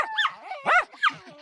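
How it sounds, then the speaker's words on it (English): Dogs at a wolf sanctuary give three rising-and-falling whimpering cries, thin and strained as if attempting a howl but never sustaining it, close by and fairly clear. "My dogs are broken. They don't know how to howl."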